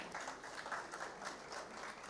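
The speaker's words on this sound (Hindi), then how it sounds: "जोरदार तालियां बजाइए गोपाल जी वासु सर के लिए।" A crowd at a cultural celebration applauds, the clapping faint and distant, a soft continuous patter with no voices over it.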